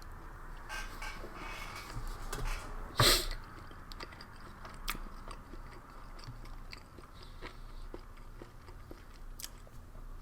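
Close, quiet chewing of a rehydrated French army ration meal of chicken and vegetables, with soft crunching and one sharper bite near the start, and no talking.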